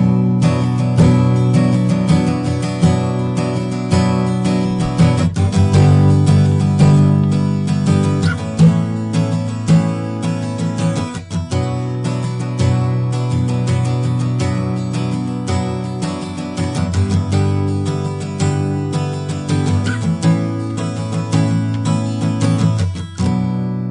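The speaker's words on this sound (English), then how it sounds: "a nice balance of the sound coming out of the body of the guitar as well as the articulation and the string sound" Close-miked acoustic guitar played steadily for a long stretch, with full body resonance and crisp string articulation, strummed and picked alone with no voices.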